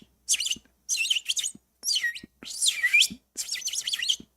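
Bird chirping: bright, rapid bursts of high tweets in five or six separate phrases with short silences between, loud and close, with no talk.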